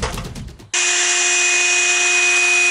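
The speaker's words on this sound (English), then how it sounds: "I'm using my multi-tool with this blade here" An oscillating multi-tool with a blade cutting out an RV refrigerator-area panel: brief rough rasping, then a loud, steady, high whining buzz that holds without a break.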